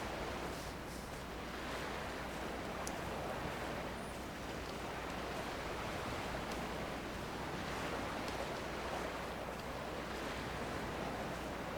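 Steady broadband wash of waves and surf along a windswept island beach in the game Dear Esther, a continuous even roar with no talk over it.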